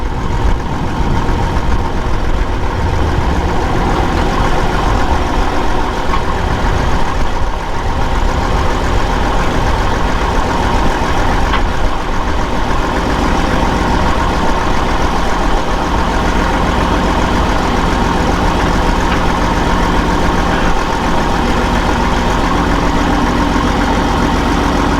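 A Massey Ferguson 1200 tractor idles on a lawn, its diesel engine holding a steady, loud, rumbling tick-over close to the microphone for the whole stretch, no voices.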